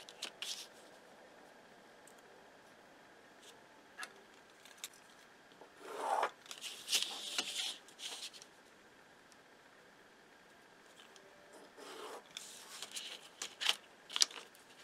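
Scissors snip through a paper sewing pattern piece, a quiet scattering of crisp cuts and rustling paper rubs in bursts with pauses between.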